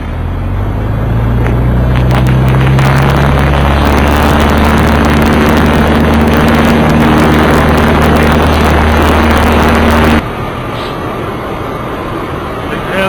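A light aircraft engine rises in pitch as the throttle is pushed in for a takeoff roll, a loud steady drone that cuts off abruptly near the end, heard from inside the cockpit.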